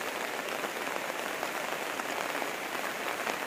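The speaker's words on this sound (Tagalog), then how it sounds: "Grabe, lakas ng ulan." Heavy rain pours down steadily, a dense hiss of drops drumming on a surface with no pauses.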